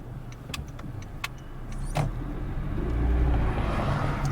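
A car pulls back onto the road during a driving test, its engine rising to a low, steady hum that builds after a few light clicks and a short whir, close and loud with no talking.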